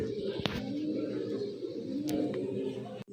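A pair of young adult red magpie pigeons coo in low, continuous rolling murmurs close by, with a couple of brief clicks or knocks over the cooing.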